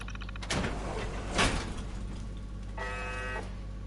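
A heavy door in the video game Fallout 4 slides open with a mechanical whir, a sharp clank near the middle, then a brief tonal electronic hum as it finishes.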